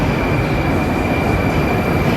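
A Moscow metro train arriving at Sokolniki station on the red line rumbles loudly and continuously with a steady roar and a faint high whine, close by, without voices.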